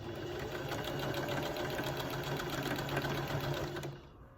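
A sewing machine runs in one continuous buzzing burst as two quilt square units are sewn together, stopping abruptly near the end.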